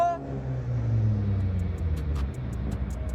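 A car speeds off with a low engine rumble that swells and holds steady, close and fairly loud for about three seconds.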